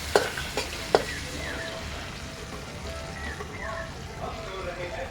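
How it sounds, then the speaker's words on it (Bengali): Dried fish frying in a pan, a steady close sizzle with a few sharp clinks of stirring near the start, continuing evenly throughout. "শুটকিটা লাল লাল করে ভেজে নেব।"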